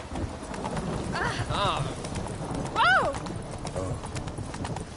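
Roach, Geralt's horse in The Witcher 3, gallops with rapid steady hoofbeats and gives a loud whinny partway through, under game music and a man's brief exclamation.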